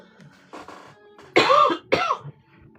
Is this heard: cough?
yes